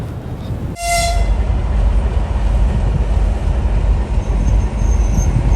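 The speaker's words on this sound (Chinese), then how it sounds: "就有一辆从俄罗斯过来的火车" A train coming from Russia reaches the Manzhouli border crossing in snowy northeast China. A short horn blast rings out, then a loud, steady rail rumble rolls on close by.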